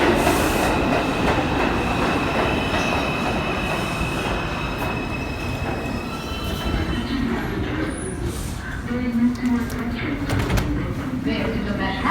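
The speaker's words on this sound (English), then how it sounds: "This is a Manhattan-bound 5 local train" A Manhattan-bound 5 local subway train in New York runs along the tracks toward Winthrop Street, with a continuous rumble, clattering wheels and a brief high squeal, loud and close from inside the car. Faint voices sit under the noise.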